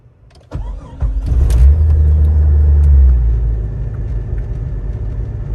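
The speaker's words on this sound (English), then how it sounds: "Started up with the first crank, so that's good news for me." A 1999 Jeep Cherokee XJ, just fitted with new MAP and IAT sensors, cranks briefly and then fires on the first try, settling into a loud, close, steady rumbling idle.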